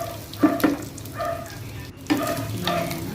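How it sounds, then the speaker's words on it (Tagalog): Onion strips sautéing in a pan for sardine guisado, with moderate sizzling broken by a few stirring scrapes and clatters in short bursts, close and without speech. "Next na natin is yung sibuyas."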